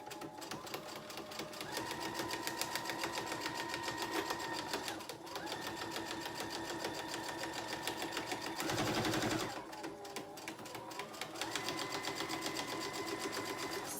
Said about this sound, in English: And come back and stitch.